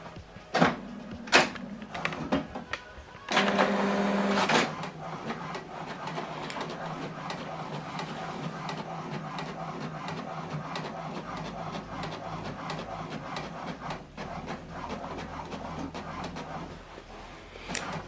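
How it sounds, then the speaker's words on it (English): A laptop-connected printer prints a document set for double-sided output, with a few sharp mechanical clicks and a louder feed burst early on, then a steady whirring run of moderate loudness. "the first set of document is printing"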